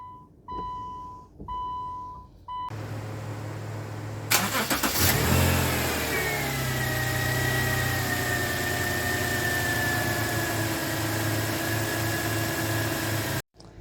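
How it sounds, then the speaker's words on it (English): A few beeps, then a 2010 Subaru Outback 3.6 engine cranks and catches with a roar before settling into a steady, rumbling idle that runs until it cuts off. "So now we're just going to start the engine up."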